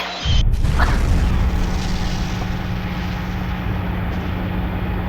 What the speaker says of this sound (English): And the nuclear explosion happened!